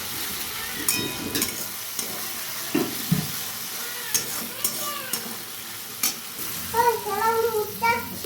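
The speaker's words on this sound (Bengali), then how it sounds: "আদা রসুন আর পেঁয়াজটা আরেকটু ভালো করে ভেজে নেব" Chopped onion with ginger-garlic paste fries in a pan for ghugni, a soft steady sizzle broken by repeated scraping stirs of a spatula, with a faint voice briefly near the end.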